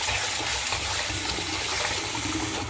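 Tap water running steadily while rice is washed in a kitchen, a continuous close gush that stays even from start to finish.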